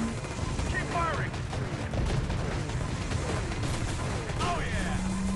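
Gunfire rattles through an Empires & Allies battle, dense rapid shots and bursts layered with booms and whistling projectiles, continuous and loud across the scene.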